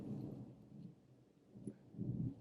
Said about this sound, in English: it's really thundering here